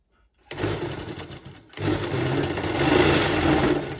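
Sewing machine stitching a yellow saree border onto a baby quilt, a close steady motor whir and needle chatter that stops briefly, then restarts and runs continuously.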